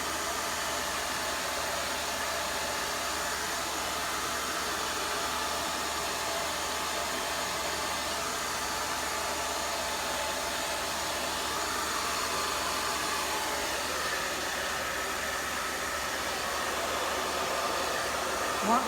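A hair dryer fitted with a diffuser blows steadily while drying hair, a loud, even, close whoosh that holds for the whole stretch without pause or talk.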